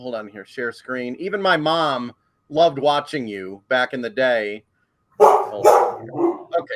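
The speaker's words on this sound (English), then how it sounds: "Sorry, that's my dog." A dog barks indoors in a quick series of sharp barks and yips, loud and close, mixed with and between a person speaking.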